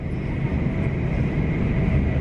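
Car-carrier train passing near Wellingborough on the fast lines, a steady, loud low rumble of rolling wagons that holds constant throughout with no break.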